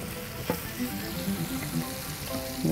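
Onions fry in a pan alongside chicken, giving a continuous close sizzle with light stirring scrapes over a short stretch.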